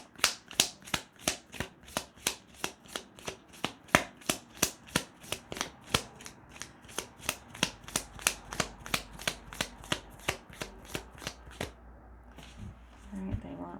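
Rapid riffle shuffling of a deck of cards during a tarot reading, a steady run of sharp, crisp flutters repeating about twice a second, close and clear, ending in a quieter rustle.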